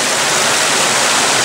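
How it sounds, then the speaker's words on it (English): Stream of water flowing through Appalachian woods near old abandoned railroad tracks, a loud, close, steady rushing wash with no breaks and no voices. "we got a nice stream coming in."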